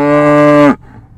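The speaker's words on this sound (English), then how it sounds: "Nah, that's just the cows behind me. But the Scottish Highland cattle are doing great." A cow on a farm gives one long, loud, close moo that holds steady and then breaks off abruptly, leaving faint outdoor background noise.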